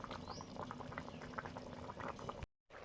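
Fish curry broth boils hard in a pot, a close, continuous bubbling and churning that stops abruptly near the end.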